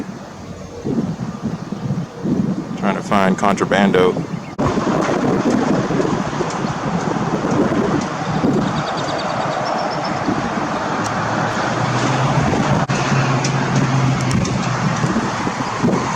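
Strong wind roars steadily across a street in Rio Grande City, a broad rushing noise that swells and holds for the whole stretch, with a brief voice speaking near the start.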